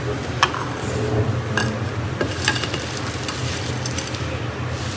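Shrimp sizzle and crackle in hot oil in a home kitchen, a steady frying hiss with scattered pops and stirring scrapes close up.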